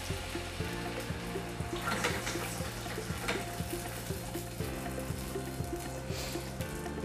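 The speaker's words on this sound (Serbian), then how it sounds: "Sada ćemo dodati vodu" Water added to a pan of pumpkin fondant beside lamb cutlets, a steady soft pouring and sizzling wash lasting several seconds, fairly quiet and close, with no talk.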